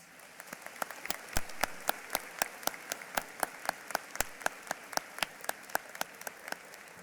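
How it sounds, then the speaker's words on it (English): Sparse, distinct claps ring out at a high school graduation ceremony, individual hand claps spaced in a loose rhythm over a quiet room rather than a dense ovation. "Could we please give them a round of applause?"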